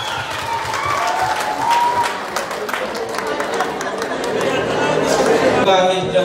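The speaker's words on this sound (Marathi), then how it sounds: "तर आपल्या सगळ्यांसाठी जोरदार एकदा टाळ्या होऊन जाऊया" Applause and crowd chatter fill a room at a real-estate firm's tenth-anniversary celebration, a steady wash of clapping running the whole time with voices mixed in.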